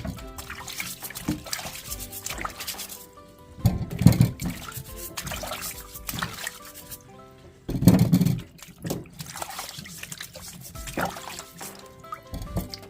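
Rhubarb stalks rinsed under running water, a steady near trickle broken by louder splashing surges as the stalks move through the stream, with no speech.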